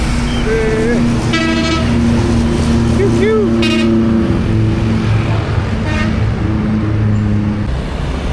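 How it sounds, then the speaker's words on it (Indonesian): Indonesian tour buses pass along a busy road with a rumbling engine and traffic noise underneath, and several short tooting horn bursts ring out. People chat in the background. "Bus pariwisata."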